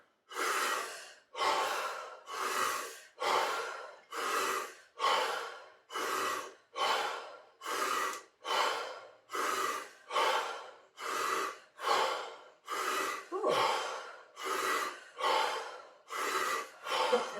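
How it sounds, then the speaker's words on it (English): A person breathes deeply in and out through the mouth, about fifteen steady rhythmic breath cycles, each a loud airy inhale followed by an exhale, close and without talking. "This one we're going to breathe through our mouth."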